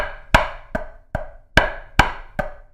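Drum double stops played evenly, each stroke landing with a crisp pop; seven sharp hits at a steady pace, close and clear, with no other sounds.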